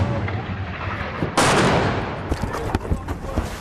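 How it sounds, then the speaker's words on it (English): Rockets fired from Gaza near the site of a music festival attack, heard as a sudden loud roaring blast followed by sharp cracking bursts at close to middle distance, with no talking. "the rockets from Gaza keep coming"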